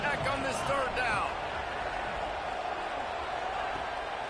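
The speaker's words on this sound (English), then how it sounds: "The crowd electric trying to help Tech on this third down." A broad stadium crowd roar fills an NCAA college football video game, holding a steady wash of noise while a commentator talks over the opening.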